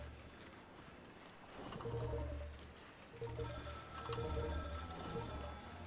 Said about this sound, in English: Action failed, telephone ringing.